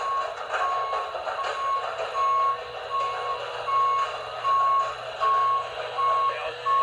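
A reach truck in a Home Depot store gives out a loud, evenly spaced run of reversing beeps, each tone short and regular, over a wash of broadband engine and store noise.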